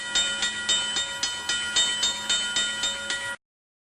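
A train running on rails in Alaska: a regular, rhythmic clatter of wheels repeating about every third of a second over a steady hiss and tonal hum, close and fairly loud, stopping abruptly.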